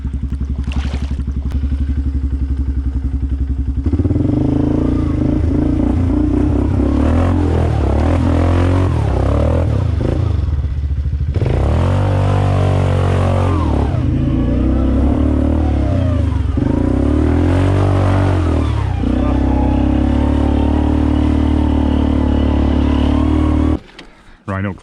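A Polaris Magnum 425 ATV engine runs close and loud through a trail ride, its drone swelling and dropping with throttle changes amid clatter, with voices partly over it.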